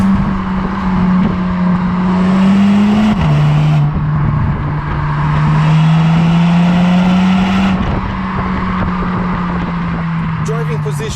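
A 2019 Cupra Ateca, a 300 hp four-wheel-drive SUV, is driving with a loud, continuous exhaust note. The note rises and shifts in pitch as the car accelerates and changes gear.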